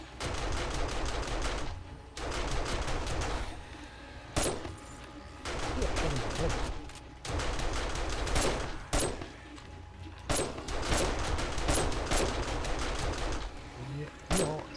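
Gunfire in the survival game Seven Days to Die comes as repeated rapid bursts and volleys separated by short gaps, loud and close, with someone talking over it.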